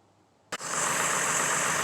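A GMC Envoy/Trailblazer engine, just repaired with a new throttle body sensor after a multi-cylinder misfire, catches with a sharp start and settles into a steady, smooth idle, heard close and continuous.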